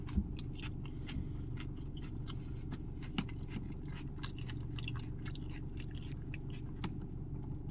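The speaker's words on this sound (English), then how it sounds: "I chew my food all the way, so I don't choke and die." Close, crunchy bites and steady chewing of tacos outdoors near a playground, with sharp crackly snaps scattered irregularly over a low background hum.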